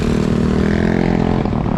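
A motorcycle passes by near a Philippine camping spot, a close engine drone that shifts pitch as it goes and trails off with some clatter.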